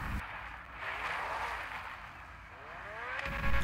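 A car's exhaust revs in GTA V on Android, an engine rising and falling in a fairly quiet, steady drone with a swell near the end and no talk over it.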